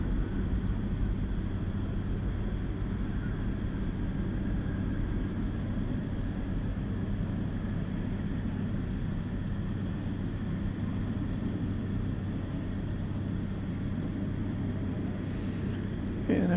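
Qatar Airways airliner departing DFW Airport at night, heard as a continuous low engine roar with a steady hum, sustained at constant loudness throughout, distant rather than close.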